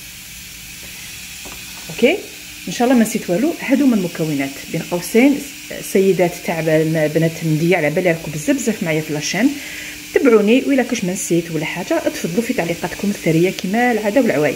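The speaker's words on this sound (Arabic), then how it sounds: "الصوت تاع الكوكوطه راهو يدور اون باراليل" A pressure cooker hisses steadily on the stove while traditional Medea-style karwiya chorba is prepared, a continuous soft hiss running under almost constant talking.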